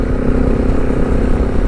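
A KTM 690 Enduro motorcycle engine runs close and loud with a steady, rough drone. The bike is on a Simpson Desert adventure ride, and no voices are heard.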